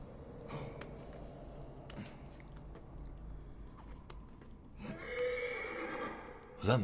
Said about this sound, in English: Do horses neigh for no reason, or is he in trouble?